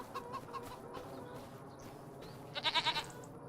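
Goats on a Farming Simulator 25 farm bleat amid clucking farm-animal noise, with one louder, wavering bleat near the end over a quiet ambient background.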